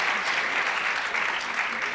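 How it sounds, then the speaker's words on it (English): Studio audience applause on a television talk show, steady and sustained dense clapping filling the whole moment at moderate loudness, with no voices over it. "They're clapping in sympathy."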